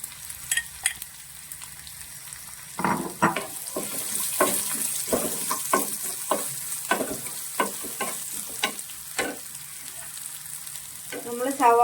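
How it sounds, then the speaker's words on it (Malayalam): Chopped onions frying and sizzling in a pan for a North Indian dal curry, with repeated stirring and scraping strokes over a steady hiss, close and moderately loud, with a few brief clinks. "നമുക്കിതിലേക്ക് ചോപ്പ് ചെയ്ത് വെച്ചിരിക്കുന്ന സവാള ചേർത്ത് കൊടുക്കാം"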